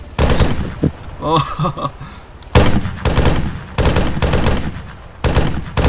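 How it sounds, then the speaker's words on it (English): Arma 3 helicopter gunfire: loud close bursts of rapid automatic fire in several long volleys with brief gaps, and a couple of short exclamations from a player between them. "the helicopter is shooting at us"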